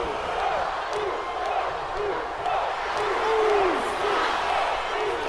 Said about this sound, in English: The crowd is going wild for Jey Uso.